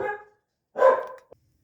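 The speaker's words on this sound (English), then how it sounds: "My dog started barking." Indoors, a dog gives two close, loud barks about a second apart, the second longer and fuller, with a tiny yip just after it and silence around them.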